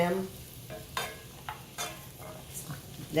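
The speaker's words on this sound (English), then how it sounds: "Now we're going to put in our vegetables." Vegetables cook and sizzle in melted butter in a pot for a creamy chicken wild rice soup, a soft steady frying hiss broken by a few brief stirring scrapes, with no talk.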